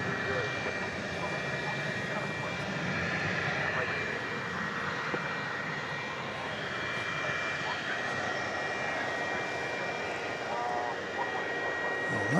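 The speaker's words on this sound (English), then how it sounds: "Next to take off, American Flight 3004 going to El Paso, an Airbus A320." Airbus A320 jet, American flight bound for El Paso, rolling for takeoff at night at DFW Airport: a steady, broad engine roar holding at a constant level for the whole stretch, with a voice talking over it.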